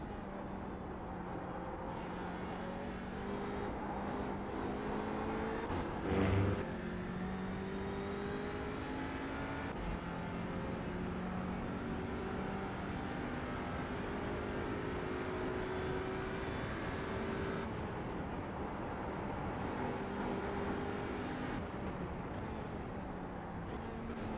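A TCR touring car engine in iRacing at the Nürburgring holds a steady drone for the whole stretch, with rising and falling harmonic sweeps as it revs through a narrow range. A brief louder burst lands near the start.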